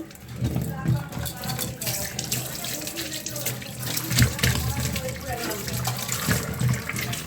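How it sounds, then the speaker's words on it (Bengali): A palmyra palm fruit is washed in water, with steady splashing and running water close by and rubbing sounds throughout, while a voice talks faintly in the background. "প্রথমে তালটাকে আমি ভালোভাবে ধুয়ে নেব।"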